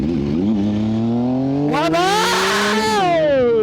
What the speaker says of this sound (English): it sounds like it idling smoother